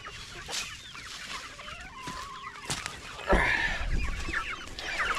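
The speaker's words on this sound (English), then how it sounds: "See that old hen trying to get back in there?" A hen clucks in short, scattered bursts at close range, with soft rustling and other fowl sounds around it.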